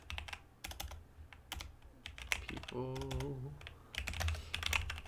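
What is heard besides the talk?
typing on a computer keyboard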